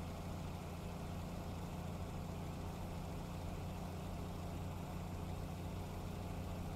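A car engine idles steadily through an aftermarket exhaust pipe, producing a constant low rumble that stays unchanged and quiet throughout, with no voices.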